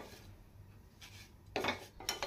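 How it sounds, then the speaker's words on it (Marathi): Thin poha flakes roasting in a pan for poha and makhana chivda, with dry rustling and scraping of stirring, quiet at first and then two louder bursts of clattering scrape near the end, no speech. "आता आपण पॅन मध्ये पातळ पोहे टाकूयात। हे पोहे व्यवस्थितरित्या भाजून घ्यायचे आहेत।"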